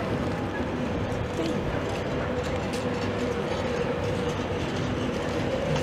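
A Virgin Trains East Coast service from London King's Cross to Edinburgh, formed of class 91 locomotive 91124, rumbles past at Peterborough as a loud, steady roar with faint wheel clatter and voices in the background.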